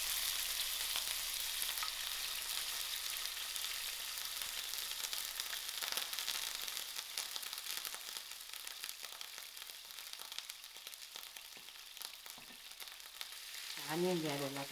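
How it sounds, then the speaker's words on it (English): Grated onions fry in oil in a non-stick pan over medium heat, giving a steady, close hiss and sizzle that carries through the whole stretch and eases slightly near the end, when a brief whirring sound cuts in. "So to my frying pan, I'm adding in my oil,"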